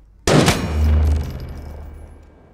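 Gunfire aimed at a creature's shell in a film, one sudden loud blast followed by a booming low rumble that slowly dies away, heard without speech.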